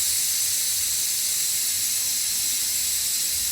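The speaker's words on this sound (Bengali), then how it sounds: "দেখো সিটি পড়ছে কুকারে" A pressure cooker holding chicken for a Sunday picnic hisses steam steadily through its whistle, a continuous bright, airy release at moderate loudness with no voices over it.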